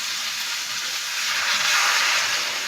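Hot water poured into a hot cooking pan of potato and papaya curry gives a loud, steady broadband hiss and sizzle that holds evenly throughout.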